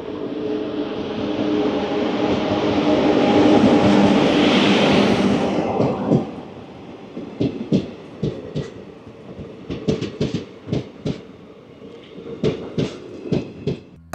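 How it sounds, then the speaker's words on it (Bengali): A Hatebazare Express passenger train from Saharsa Junction to Sealdah arrives at a station at night, its loud rolling rumble giving way to sharp, irregular clanks and clatters of the wagons as it slows. "সাহারসা জাংশন থেকে শিয়ালদাগামী হাটেবাজার এক্সপ্রেস। আর সেই ট্রেন ধরেই আমার প্রথম গন্তব্য শিয়ালদা স্টেশন"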